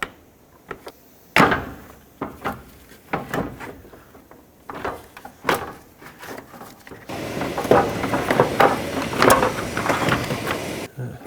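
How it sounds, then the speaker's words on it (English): Plastic fan shroud of a 2007-2009 Saturn Aura being worked out of its radiator mountings: a series of close, sharp knocks, clunks and scrapes at irregular intervals, busier toward the end. "I'm going to grab the fan shroud, pull it up and out of its mounting spots."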